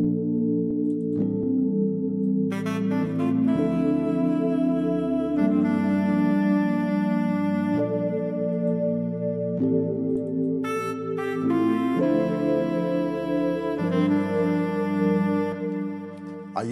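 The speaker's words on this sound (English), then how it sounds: "And then now I added this saxophone here." Saxophone line played through session horns in a deep house track built in FL Studio, with limiter and chorus effects, sounding steadily alongside the beat and bass, loud and continuous with no talking.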